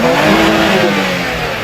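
A BMW drag racing car at a drag racing event revs loudly and close by. The engine roar holds steady and dense throughout the short stretch.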